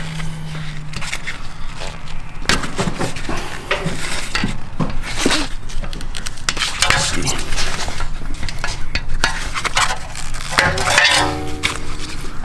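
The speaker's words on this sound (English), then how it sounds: "Kind of wedge a screwdriver in here." A screwdriver pries dust caps off a BMW E90 brake caliper, making a continuous run of close metallic scrapes, clicks and clinks.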